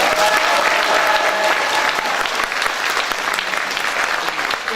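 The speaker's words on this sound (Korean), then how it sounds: "김영택 회장님에게 다시 한번 힘찬 박수 부탁드리겠습니다." Forum audience gives a hearty round of applause for a speaker, a loud, dense crowd clapping that holds steady for several seconds and eases slightly toward the end.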